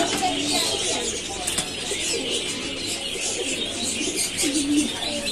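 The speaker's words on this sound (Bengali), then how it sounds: "লাউরি কবুতর নেওয়া আসবে খারাপ লোকালে নেওয়া আসবে" Pigeons for sale at Kalitola market in Bogura coo amid a busy, noisy crowd, their soft calls partly masked by steady background chatter and bustle.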